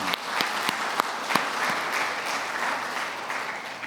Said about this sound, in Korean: 우리 방송팀에 우리 격려의 박수 한번 하면 좋겠습니다.